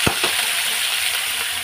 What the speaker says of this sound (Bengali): আলুগুলো লাল লাল করে একটু ভেজে নিই